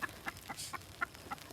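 A broody hen clucks in short, soft bursts spaced through the moment, fairly quiet and close in a backyard garden coop.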